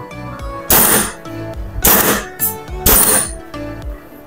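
An airsoft gun fires weak shots with no gas loaded, three loud, sharp cracks spaced about a second apart, each with a brief metallic ring, close by with no talking.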